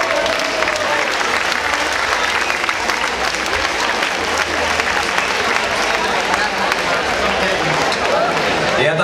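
A crowd applauding at a street decoration awards ceremony for a neighbourhood festival, loud sustained clapping from many hands throughout with voices mixed in.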